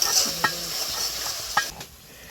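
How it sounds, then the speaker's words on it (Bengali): Spice masala stirred in a hot pan for a vegetarian Bengali jackfruit curry with yogurt, a steady sizzle broken by a couple of sharp spoon scrapes, close and without talk. "মশলাটি ভালো করে নেড়ে চেড়ে"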